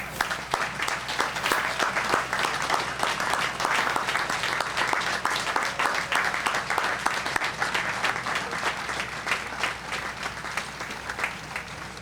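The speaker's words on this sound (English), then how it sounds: "please accept our applause" A crowd applauds veterans at a July 4th patriotic parade program in Hamilton. The clapping is sustained and even, with many individual claps crackling through a continuous mass for about twelve seconds.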